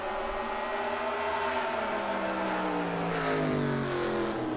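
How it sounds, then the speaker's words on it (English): Several race cars in a sim racing game of a Grand National series at Grand Rapids roar past together, their layered engine drones sliding down in pitch as they pass, loud and steady throughout. "Here comes the 42 car of Ty Westerner"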